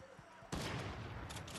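A video game shotgun goes off after a short quiet lead-in, one loud, abrupt blast, followed by a second burst close behind as the echo fades.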